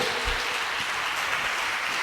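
A Portuguese-speaking church congregation claps in praise during a worship service, producing a steady wash of many overlapping handclaps at moderate loudness and no talking.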